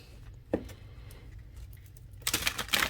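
A gilded oracle card deck is riffle shuffled close by, a soft thump and then a quick flurry of fluttering card clicks near the end, quiet and alone.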